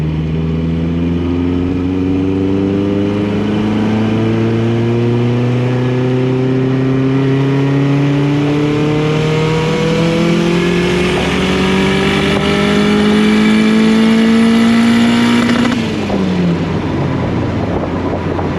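Mazda MX-5 Miata turbo engine pulls hard through the gears, a loud rising drone that climbs steadily across each gear before dropping at a shift near the end, with wind rush over the microphone and no talk.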